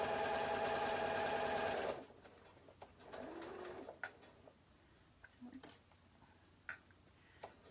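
A home sewing machine set to a stitch length of 5 stitching cardigan fabric, a close, loud, rapid whirring run for about two seconds that stops abruptly, followed by quiet handling noises and faint clicks.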